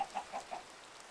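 Minecraft chickens give a few soft, short clucks in a loose sequence, faint and tapering off into near silence.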